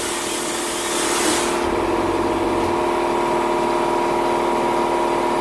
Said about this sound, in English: I'm on the little compressor at the moment, just because I was doing a short test.